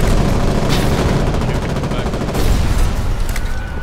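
Rapid, loud, dense gunfire from the rear gun of a gunboat in the war game Foxhole, a continuous barrage of shots and booms with voices talking over it.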